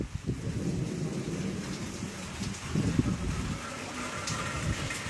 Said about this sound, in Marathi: आता थोडा पाऊस कमी झालेला आहे, तरी सुद्धा बारीक पडत आहे।